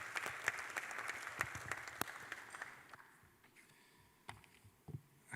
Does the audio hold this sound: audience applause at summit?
yes